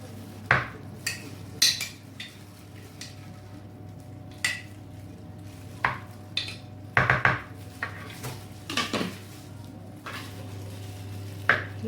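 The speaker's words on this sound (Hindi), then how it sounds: "लहसुन अदरक का पेस्ट चला गया इसमें" Garlic ginger paste is spooned onto raw chicken and mixed in, with scattered clinks of a spoon against a metal bowl and soft squishy stirring over a steady low background hum, no talking.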